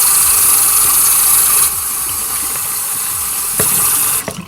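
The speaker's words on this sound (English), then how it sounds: "Once you guys are done using it, you guys want to rinse it." Running water from a tap rinses a dry body shower brush, a loud, close, steady hiss of spray that changes slightly as the brush moves through the stream and cuts off at the end.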